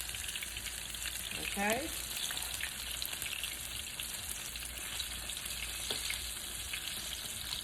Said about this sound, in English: And let it sit there and fry on the other side.